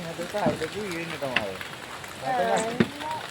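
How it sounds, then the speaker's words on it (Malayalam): Steady rain falls throughout, a soft continuous patter beneath a child's and adults' voices talking over it. "മഴ കുറയുന്നുണ്ട്"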